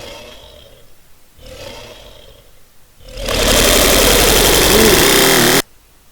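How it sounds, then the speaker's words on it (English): A voice processed with a chorus modulation effect in Adobe Audition comes in loud and buzzing for about two seconds and then cuts off sharply, after quieter warbling sounds. "modulation, I'm going to add a little bit of a chorus thing"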